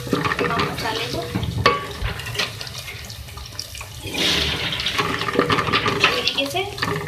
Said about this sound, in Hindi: अब इसको मिक्स करेंगे तमाम मसाले को